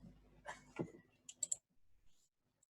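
A computer mouse clicking through an online maths lesson, a few sharp, quiet clicks spaced across a near-silent room, with some faint rustling early on.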